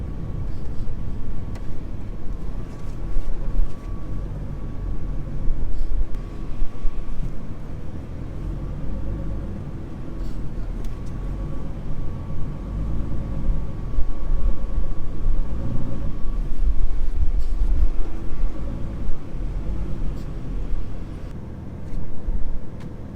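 A Ford GT MK II's engine rumbles steadily at low pitch for the whole stretch, rising slightly at moments as it reverses slowly into a parking spot nearby, with no talking.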